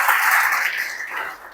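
A congregation applauds for God during an Indonesian Independence Day sermon, a dense burst of clapping that swells briefly then gradually thins out, with no speech over it.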